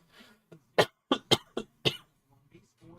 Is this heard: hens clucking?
no